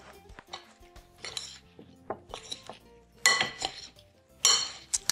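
Seasoned red potatoes are stirred in a bowl with a utensil, producing a few clinks and scraping knocks in short uneven bursts, close and fairly quiet.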